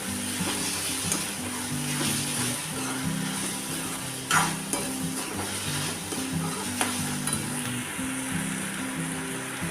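Whole chillies and spices fry in hot oil in a pan for cashew curry, a steady close sizzle with occasional scraping stirs and a soft clink, and no one speaking.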